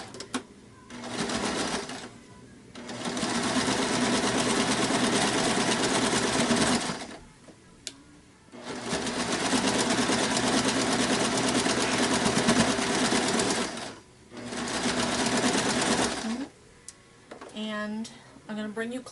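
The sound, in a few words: sewing machine stitching a Barbie comforter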